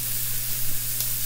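Food sizzles steadily in a skillet during a Blue Apron meal of romesco shrimp and couscous. The frying hiss is close and continuous, with a low hum underneath and a soft stirring scrape partway through.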